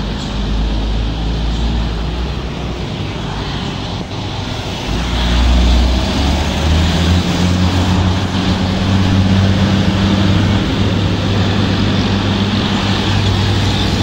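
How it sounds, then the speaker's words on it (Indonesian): A Budiman intercity bus with a Hino 500 engine labors up the steep Kebon Cengkeh climb, a loud, close engine drone that deepens and strengthens partway through amid roadside traffic noise. "Mesin Hino 500"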